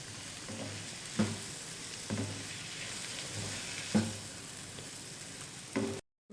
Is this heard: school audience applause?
no